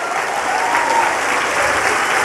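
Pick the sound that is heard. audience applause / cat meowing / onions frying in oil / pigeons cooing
audience applause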